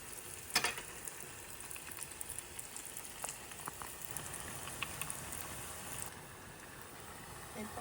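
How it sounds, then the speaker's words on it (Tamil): Rolls frying in hot oil in a pan, turned over as they cook, give a steady close sizzle with scattered crackles and a few sharper clinks from the utensil, with no talking. "போட்டுட்டு நீங்கள் கவனமாக இதை நீங்கள் திருப்பி திருப்பி எல்லாத்தையும் பொரிச்சிடுங்க"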